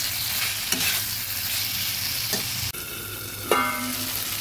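Fried potatoes are stirred into sizzling masala in a pan while making a katla fish and potato curry. A steady, fairly loud frying hiss runs throughout, broken by a few sharp spatula scrapes and knocks.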